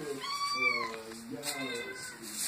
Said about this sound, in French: Ah, tiens, il y a un double miaulement.